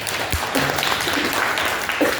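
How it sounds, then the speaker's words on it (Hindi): Brief burst of applause from students in a classroom during a politics lesson on globalization, a short spell of clapping that fills the clip at moderate level. "ताली बजाओ सर के लिए।"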